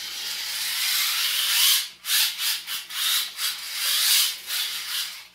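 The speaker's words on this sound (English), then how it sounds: "I can add it until it pushes up the motor, and then I can, you know, just lightly sand that out." Light hand-sanding on a part of a Hex Mods RC drift car, a steady dry rasp for the first couple of seconds that then breaks into short, separate scrubbing strokes at close range.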